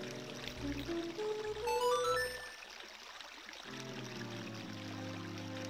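A melody plays as the game over sound in The Legend of Zelda: Ocarina of Time, a gentle rising run of bright tones over a soft drone, fading into quiet ambience.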